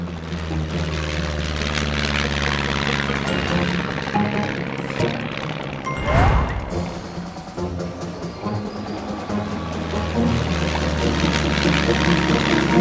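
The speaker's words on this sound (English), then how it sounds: "Captain Chicken, we are clear for takeoff." A cartoon toy airplane takes off with a whooshing engine roar that swells around the middle, set over bright background music.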